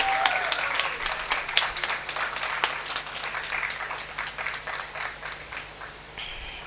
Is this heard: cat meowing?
no